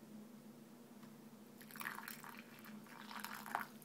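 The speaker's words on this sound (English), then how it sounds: "I'm just going to sort of wet my filter here." Hot water is poured over a paper filter in a Hario ceramic pour-over cone, giving faint, soft splashing and dripping bursts over a low steady hum, close by.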